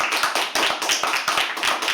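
A small audience at a live poetry open mic claps steadily to welcome a performer to the stage, with dense, close, continuous applause.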